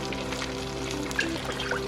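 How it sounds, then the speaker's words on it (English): Water pours steadily into a pan for a shrimp Alfredo, a continuous splashing trickle with a faint ringing tone. "We had to put a little water in there."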